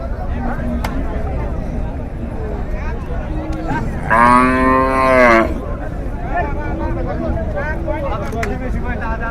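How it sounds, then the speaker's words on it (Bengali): Cattle at a busy cow market in Chandaikona, Bogura. One loud, close moo rises in the middle over a constant hubbub of crowd chatter and market noise. "সুন্দর একটি গরু কিন্তু দেখতে পাচ্ছেন"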